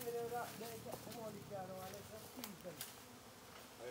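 A dense buzzing of many bees from a backyard hive nest in rural Jamaica fills the clip, with people talking loudly over it throughout.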